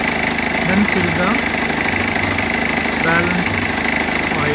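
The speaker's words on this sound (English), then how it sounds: "Start the engine, then fill the" A BMW 320d diesel engine idles close by with a loud, even, rattling clatter throughout, and someone speaks over it.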